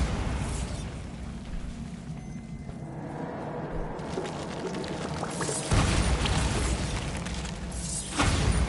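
A Bombarda spell blast in Hogwarts Legacy erupts as a sustained rumbling boom with shattering debris and bursts, loud and close, swelling again near the end with no talking.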